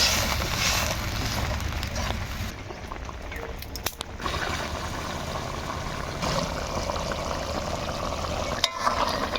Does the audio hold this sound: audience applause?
no